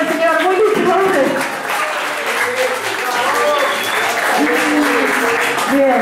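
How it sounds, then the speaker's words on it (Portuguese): An audience applauds at an outdoor lunch event in a park, a steady close burst of clapping with cheering voices and a speaker talking over it. "Quiero un fuerte aplauso"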